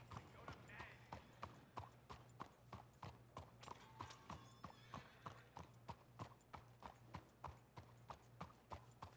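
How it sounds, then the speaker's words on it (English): Steady clip-clop of horse hooves in a video game (RedM), evenly paced and fairly close, with a low hum and faint ambient sounds underneath. "Look how polite my horse is prancing about."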